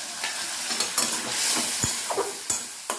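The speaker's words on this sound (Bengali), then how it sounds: "সামান্য একটু গরম জল দিয়ে মশলাটাকে খুব ভালো করে কষিয়ে নিতে হবে।" Ground spices with salt and a splash of hot water are stirred and cooked in a pan for a fish curry, giving a continuous close sizzle broken by several sharp scrape-and-clack stirring hits; no talking.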